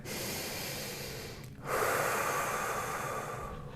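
Deep breathing during a balance exercise: one long, close exhale hiss, a brief pause, then a strong inhale or exhale rushing through the nose and mouth.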